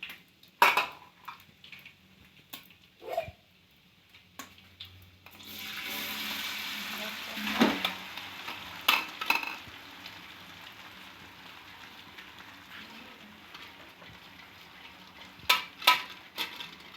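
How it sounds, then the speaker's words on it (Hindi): Rice for degi mutanjan is poured into a pot with a hissing sizzle, then stirred with scattered metallic clanks and scrapes of a utensil against the pot, close and intermittent over a steady background sizzle. "अब हम इसमें चावल डालेंगे।"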